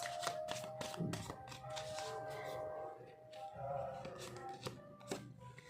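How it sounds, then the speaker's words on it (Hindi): Tarot cards are shuffled and drawn during a love reading, giving soft riffling and snapping flicks in irregular bursts over a steady tonal background and faint voice. "कुछ और लेंगे हम कार्ड्स"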